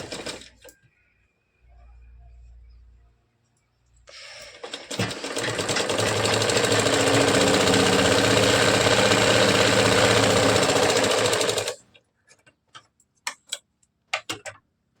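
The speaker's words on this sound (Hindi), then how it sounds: "इसमें नीचे की तरफ थोड़ा सा मोड़ते हुए इस तरह से सिलाई चलानी है" A sewing machine stitches blouse fabric in one long steady whirring run of about seven seconds after a short start, then stops and gives a few separate sharp mechanical clicks and knocks. No one speaks.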